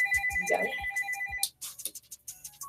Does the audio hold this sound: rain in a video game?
no